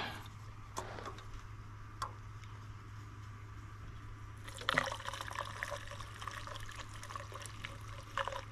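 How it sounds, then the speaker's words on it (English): Lacquer thinner being poured into a car's gas tank, a quiet liquid trickle that runs steadily under a low constant hum, with a brief clatter around midway. "I'm going to put this lacquer thinner in my gas tank."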